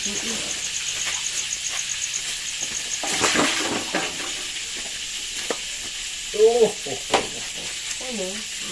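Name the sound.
frying tofu in a pan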